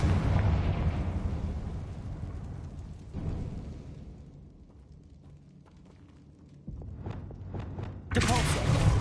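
The Confringo explosive spell goes off in Hogwarts Legacy. Several loud, booming blasts land a few seconds apart, each followed by a decaying rumble, with quieter game sounds in between.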